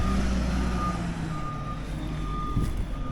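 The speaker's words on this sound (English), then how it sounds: "So the truck, I truck this back up." A dump truck backs up while backfilling a swampy backyard, its backup alarm beeping in a steady, evenly spaced rhythm over the low, constant rumble of the engine. The truck sounds moderately close, with no talking.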